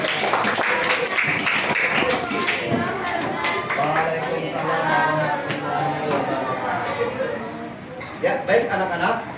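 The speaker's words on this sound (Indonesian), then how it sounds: "beri tepuk tangan untuk kelompok" A class claps for a student group in a school classroom, quick close hand claps strongest at the start, then fading under steady chatter and talk.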